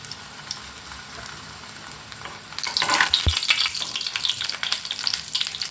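Eggplant slices fry in oil in a pan, a faint sizzle that bursts into loud crackling hiss as they are flipped, with a brief clunk of the turner before the bubbling continues.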